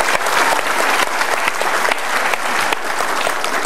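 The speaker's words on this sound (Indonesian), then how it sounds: "sekali lagi kita berikan aplaus untuk istri tercinta" Studio audience of an Indonesian talk show bursting into applause, a dense, loud, continuous wash of many hands clapping for the whole stretch, with no talk over it.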